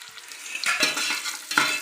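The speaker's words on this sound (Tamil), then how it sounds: "பாருங்கள் இதில் வெங்காயத்தை போட்டு நல்லா பொரிச்சு எடுத்துக்கலாங்க." Chopped onion and coconut frying in ghee and oil in a pan for sweet appam, a soft close sizzle with a couple of stirring scrapes, no talk.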